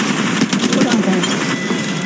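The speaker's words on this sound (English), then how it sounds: "Shots fired." Rapid automatic gunfire in the video game Apex Legends Mobile, a dense burst of close, loud shots rattling for about two seconds.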